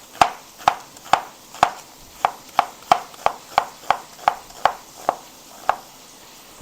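A knife chopping half an onion on a board, about fifteen crisp, evenly paced strikes with short gaps, close and clear with no talking.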